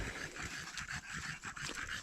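A dog panting steadily on a mushroom-hunting walk through an autumn forest, quick rhythmic breaths close by, with no talk over it.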